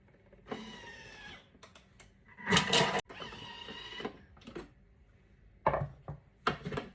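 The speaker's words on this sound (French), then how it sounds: "Pour hacher l'oignon rapidement, je mets à 5 secondes, vitesse 5." A Thermomix chops onion at speed 5 in short whirring bursts, each lasting roughly a second, separated by louder clattering knocks and quiet gaps, heard close up with no talking.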